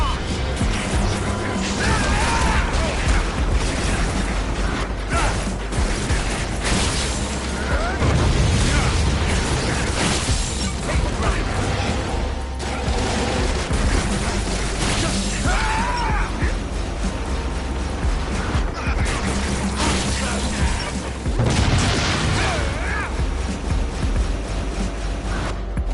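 Missile blasts and crashing impacts from the action game Travis Strikes Again fill the scene, dense and loud throughout, with repeated booms under an ongoing game mix.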